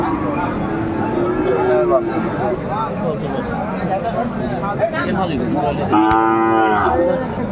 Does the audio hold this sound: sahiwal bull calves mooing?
yes